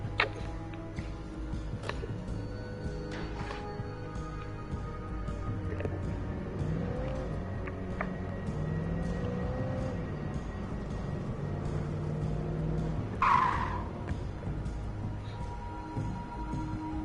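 A car driving in the PS5 video game Alan Wake Remastered gives a low, steady engine rumble that holds throughout and rises slightly in the middle, with occasional faint clicks and a brief higher tone near the end.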